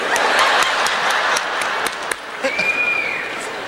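Audience applause during a live comedy show hosted by Yvon Deschamps, loud dense clapping from the crowd with a few sharper claps and a brief whistle partway through.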